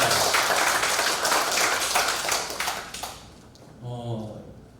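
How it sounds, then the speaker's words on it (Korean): A church congregation applauds during a Wednesday worship service, giving a loud, sustained burst of clapping that fades after about three seconds before a voice begins speaking. "우리 하나님께 영광의 박수 올려드립니다"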